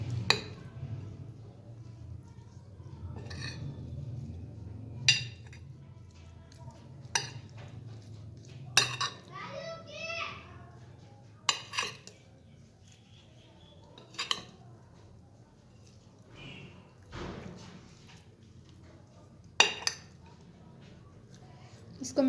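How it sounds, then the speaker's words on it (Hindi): Fish marinade being mixed in a bowl, with a utensil clinking and scraping against the dish in scattered bursts over a steady low hum, and a voice talking at times. "और इसको हम अच्छी तरह से मिक्स करेंगे।"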